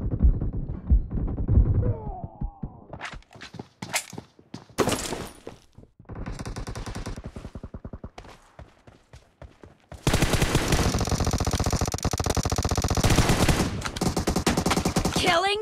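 Gunfire in the video game PUBG during arena training: rapid automatic bursts and single shots, loud and close, ending in a long sustained stretch of continuous fire.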